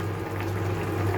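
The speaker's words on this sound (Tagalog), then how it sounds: "Pero hayaan lang natin siyang kumulo ng kumulo, guys." Chicken adobo broth bubbles at a steady boil in a pot, a soft continuous burbling with a low hum beneath it, fairly quiet and with no voices.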